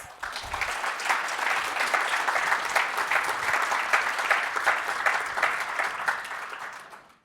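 An audience at a youth forum on environmental justice breaks into a round of applause, many hands clapping steadily and fairly close, building quickly and tapering off at the very end.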